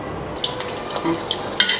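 Soft sizzle of steamed taro and peanut cakes pan-frying in oil, with a few light scrapes and clinks of a spatula against the pan.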